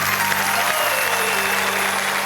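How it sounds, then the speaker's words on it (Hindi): An audience at a poetry recital gives steady, dense applause to welcome the poet, a continuous burst of clapping from a crowd lasting a couple of seconds. "हम जोरदार तालियों से स्वागत करें।"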